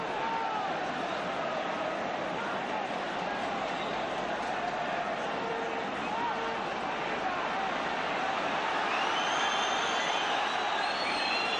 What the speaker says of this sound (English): Crowd getting a little bit impatient.